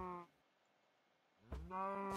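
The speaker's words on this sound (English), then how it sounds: "Cows." Video game cows give two drawn-out moos, one at the start and a louder one near the end, separated by a quiet gap.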